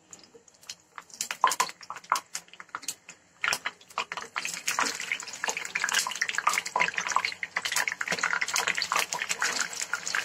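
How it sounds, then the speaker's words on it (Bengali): Raw banana slices dropped a few at a time into hot oil for crispy chips, giving a close, steady sizzle and bubbling with sharp crackles and pops that build and keep going. "তেল পর্যাপ্ত পরিমাণে গরম হলে আমি এর মধ্যে কলাগুলো অল্প অল্প করে ছেড়ে দিচ্ছি"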